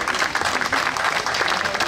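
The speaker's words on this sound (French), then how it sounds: "je pense qu'on peut vraiment applaudir Pascal" Applause from an audience at a French public event, steady and dense clapping throughout without a break.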